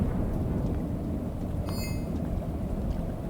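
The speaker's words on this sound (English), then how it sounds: "the rain here wasn't even that acidic" Rain and thunder in the video game Shadows of Doubt make a steady, dense wash of rainfall over a constant low rumble, loud and unbroken throughout, with no talking.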